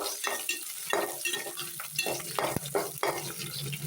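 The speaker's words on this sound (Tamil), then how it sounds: "கீறி வச்ச பச்சை மிளகாய் அதை போட்டு நல்லா வதக்கணும்." Onions, curry leaves and slit green chillies sauté in oil for fish curry, with a close sizzle and rhythmic scraping strokes of a spoon stirring the pan.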